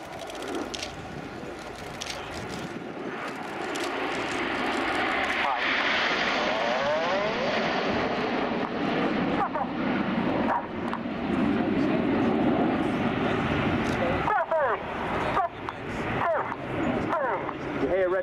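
Red Arrows jets fly a formation display at an airshow, a broad engine roar swelling in and holding steady overhead while an announcer commentates throughout.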